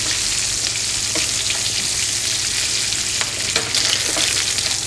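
A fish fillet fries skin-side down in a hot pan, giving a loud, continuous close sizzle with a few faint clicks and no voices.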